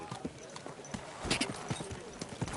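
Horse hooves clip-clop in a steady, fairly close rhythm on a road in the medieval video game Kingdom Come Deliverance 2, with voices talking over the hoofbeats.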